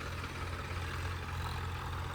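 Three tractors plough a 200-acre field together, their engines giving a steady, heavy low rumble and drone that stays even and unbroken throughout, with no voices over it.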